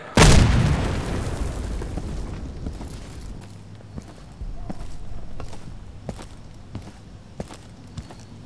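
A frag grenade in the Insurgency PC shooter detonates with a loud, close boom at the very start, its rumble decaying over a few seconds, followed by scattered footsteps and faint game noises.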